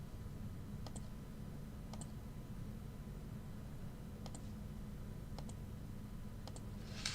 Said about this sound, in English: Andy's typing.